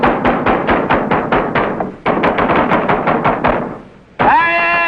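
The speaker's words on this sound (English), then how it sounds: "We'll just pound on the door until somebody hears us." Repeated fists pounding on a garage door, a fast series of loud, close, hollow knocks in two bursts, ending as a voice starts shouting.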